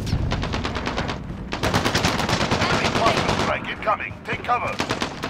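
Loud gunfire in the video game Call of Duty: Modern Warfare, rapid automatic bursts for several seconds, then sparser shots trailing off among scattered game effects.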